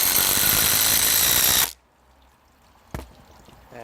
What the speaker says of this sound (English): I'm going to chuck in the Makita 173 here, just so you know this sounds like a normal impact driver.